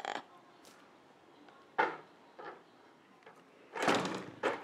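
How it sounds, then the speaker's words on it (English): In an apartment, a door is shut with a few soft thuds and clicks, a louder knock-like impact near the end, heard close but fairly quiet with no talking. "I had to close the door"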